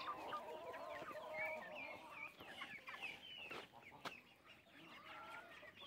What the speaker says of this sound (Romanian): Pui.